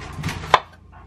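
A knife cuts through onion into rings, one crisp thunk against the cutting board after a short soft crunch, close and alone.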